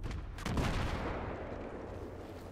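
Battlefield 3 combat, with loud, dense explosions and rumbling gunfire on a river operation map, a sharp blast surging up early and a continuous roar that slowly fades.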